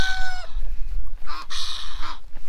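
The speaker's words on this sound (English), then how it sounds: "That Egyptian goose, did y'all hear that thing?" An Egyptian goose on a farm with show-quality chickens gives hoarse, raspy honking calls in a couple of loud bursts close by, with a rooster-like crowing tone at the start.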